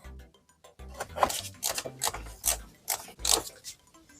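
A hand ratchet works an intake manifold bolt loose on a VW EA288 2.0 TDI engine, giving close, repeated clicking and rasping strokes in an uneven rhythm over a low background hum.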